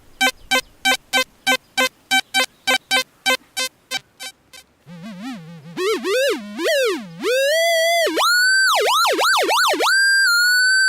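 An XP metal detector sounds a run of rapid short beeps, then shifts into warbling, rising and falling tones that climb to a steady high buzzy square-like pitch, clean and close with no talk.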